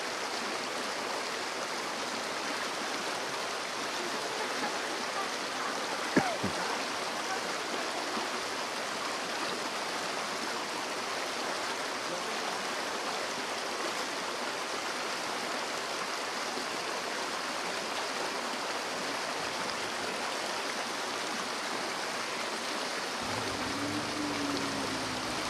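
A river rushes beneath a zipline in Palawan, a constant, even roar of flowing water filling the whole stretch, with a brief faint creak partway through.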